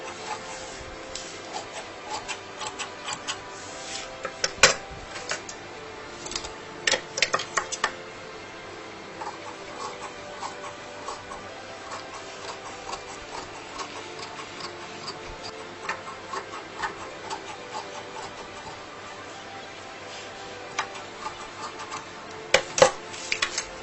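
Scissors snip through fabric while a sewing pattern is cut out, a steady run of small close clicks and rustles with a few sharper cuts, no voices.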